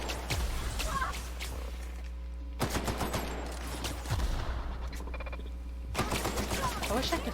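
Grenade launcher fired in The Outer Worlds combat, with repeated sharp shots and bursts of gunfire recurring across the stretch amid a steady game background hum.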